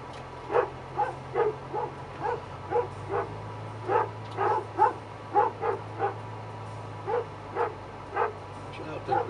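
Several dogs among sheep bark repeatedly in short bursts throughout, fairly close, over a steady low engine hum.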